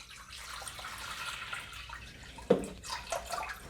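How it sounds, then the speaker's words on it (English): Four cups of water poured into a pot for pinto beans, a steady liquid rush running for about two and a half seconds, then a sharp splash and a few uneven sloshes as the flow ends. "I'm going to go ahead and pour in my 4 cups of water."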